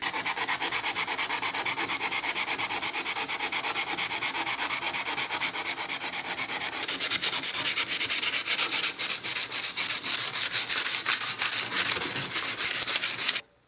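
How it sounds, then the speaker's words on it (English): Sandpaper rubs steadily by hand over the coated steel blade of a Ka-Bar Becker BK9 knife, a close, continuous scratchy scraping in quick back-and-forth strokes with no voices. "I'm going to take some sandpaper to get that off"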